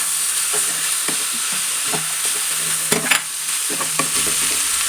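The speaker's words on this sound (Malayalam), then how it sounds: "ഇനി നല്ലോണം ഇതൊന്ന് മിക്സ് ചെയ്യാം." A spoon stirring chicken roast masala with coconut pieces in a hot pan, soft sizzling underneath with scraping strokes at an irregular pace, close and without talk.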